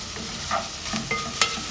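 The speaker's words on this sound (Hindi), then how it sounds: "ये हमारा अदरक लहसुन भुन गया है।" Ginger garlic paste sizzles and crackles in a hot pan while a spoon scrapes and stirs, producing a few soft clicks up close, with no voices.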